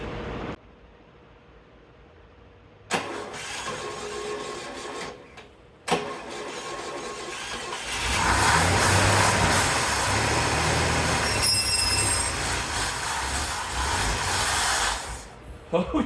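A 1960 GMC truck engine turns over and catches, then idles roughly before being given gas and revving up into a loud, sustained roar that holds and wavers near the end.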